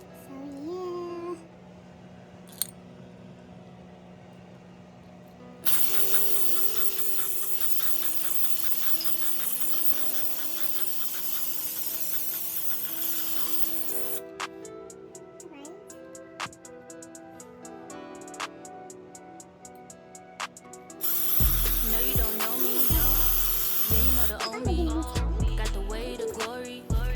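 Glitter spray paint hisses out of a can onto a pair of pants in a DIY customizing job. Loud, close, steady spraying runs in a long continuous stretch, followed by shorter bursts.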